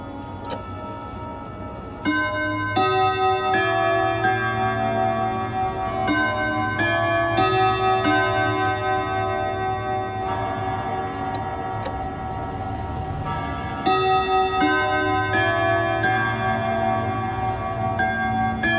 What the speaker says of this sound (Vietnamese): Tiếng chuông đánh rất là tốt luôn.